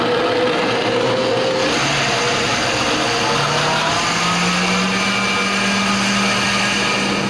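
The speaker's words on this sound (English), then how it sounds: "I'm literally going to let the blender do all the work for me." A blender on its soup setting purees carrot ginger soup, a loud steady whirring motor drone that runs throughout with a slight shift in pitch as the speed changes.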